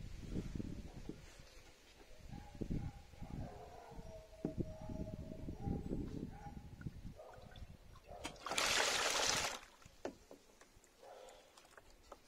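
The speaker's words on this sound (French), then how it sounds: "Donc ensuite vous prenez un jet, il faut rincer l'échappement." A water jet rinses a car exhaust during decarbonising, with a short, close burst of hissing spray after scattered low knocks, drips and trickling patter.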